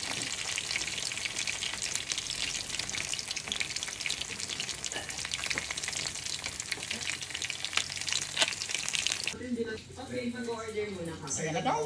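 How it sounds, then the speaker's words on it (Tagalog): Fish frying in hot oil, with a dense, steady sizzle and crackle running throughout, close and loud; a voice talks over it near the end. "ang ganda ng kanyang pagkakaprito guys"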